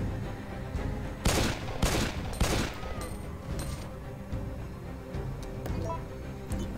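Gunfire in the Resident Evil During the Storm demo: several loud, sharp shots early on, then scattered quieter bursts and clatter over a steady game background.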